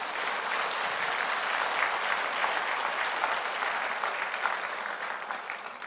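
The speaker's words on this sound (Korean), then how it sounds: "박수를 치려면 다 치세요" An audience at a church lecture breaks into applause, a dense, even patter of many hands clapping, moderately distant and sustained throughout without talk over it.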